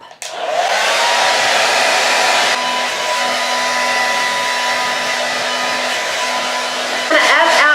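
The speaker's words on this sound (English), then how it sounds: "And when I'm blow drying it, I'm always kind of pulling up and down." A hair dryer blow-dries hair, a loud, steady airy roar with a constant motor whine close by, briefly shifting in tone near the end as the airflow is moved.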